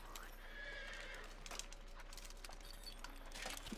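Horse neighing in the strategy video game Europa Universalis V, a faint whinny over a steady low ambient game backdrop, fairly distant and soft.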